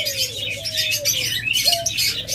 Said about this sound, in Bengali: অসংখ্য ঘুঘু পাখি রয়েছে